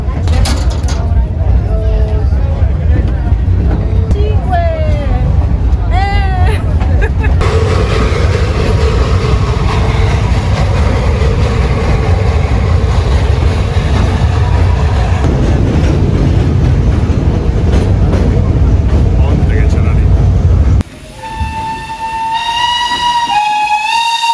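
A train rumbles steadily along a rail line in Maramureș, Romania, with a loud low drone throughout. Passengers talk over it, and the tone shifts abruptly near the end.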